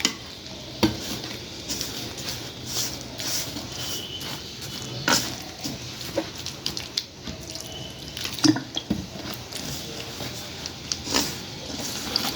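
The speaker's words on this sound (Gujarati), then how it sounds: "હવે આમાં થોડું થોડું પાણી નાખીને આપણે ખીરું બનાવી લઈશું।" Water is added little by little to mixed vegetable rava uttapam batter while it is stirred, giving irregular wet clinks, splashes and scraping taps, close but fairly soft, with no talking.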